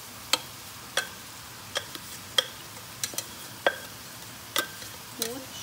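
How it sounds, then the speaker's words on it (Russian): Mushrooms frying with onion in a pan: a soft sizzle underneath, with regular sharp clicks of a utensil stirring the pan, about one each second, and a brief voice near the end. "Теперь добавляем грибочки."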